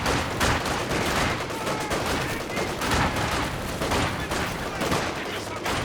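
Dense, continuous gunfire with machine-gun bursts fills a Company of Heroes 2 battle as combat engineers keep pressure on an enemy machine gun, a steady loud barrage throughout.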